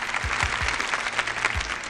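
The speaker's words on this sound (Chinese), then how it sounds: "大家给点掌声。" A studio audience claps steadily, a dense patter of many hands at moderate distance, with a few low thumps beneath and no talk over it.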